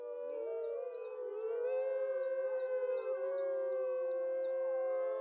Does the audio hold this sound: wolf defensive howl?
yes